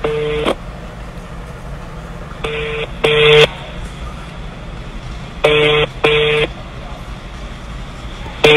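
A phone keypad sends a series of DTMF dialing tones as a call is placed: short bursts, first one and a pair, then a pause and another pair, with steady background hiss and faint traffic rumble behind.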